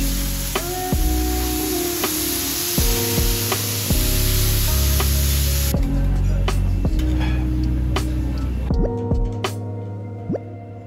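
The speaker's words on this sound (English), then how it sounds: "The word teppanyaki is derived from teppan, the metal plate used for cooking, and yaki, which means grilled or fried." Teppanyaki cooking of local wagyu on a hot metal plate in Japan: continuous sizzling and spattering with sharp clicks and taps of utensils against the griddle, close and steady, fading slightly toward the end.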